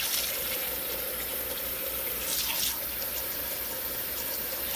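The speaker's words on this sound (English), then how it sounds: "We're gonna rinse this pot out." A kitchen tap runs in a steady loud gush as a cooking pot is rinsed under it, with water splashing continuously into the sink throughout.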